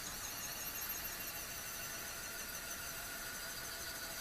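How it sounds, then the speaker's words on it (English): A fifth-scale model engine runs steadily at high revs, a continuous bright whine with a hissy buzz that holds a constant level throughout, close and loud with no talking. "That little fifth scale motor is getting with it."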